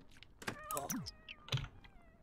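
A cat in The Sims 4 game gives a few short meows with rising and falling pitch, close and fairly clear, alongside brief clicking sounds, with no talk over them.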